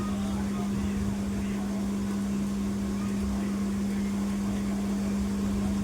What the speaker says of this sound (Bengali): মিক্সি অন করে চালিয়ে দেবে।